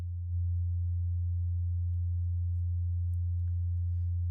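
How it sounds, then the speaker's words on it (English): A steady low sine tone from a synthesizer patch built in Reaktor fades in and then holds constant and pure, with only faint clicks near the end. "you can hear the tone."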